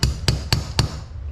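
Four sharp metallic taps of a small hammer driving a hammer pin into a Springfield 1911 A1 pistol, evenly spaced about a quarter second apart, close and crisp, with no talking.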